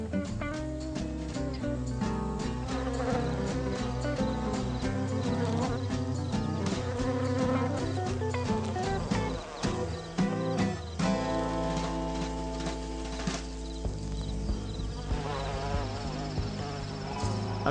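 Solitary bees buzz close and continuously in a garden, their drones shifting in pitch as they move, with a background music bed running underneath.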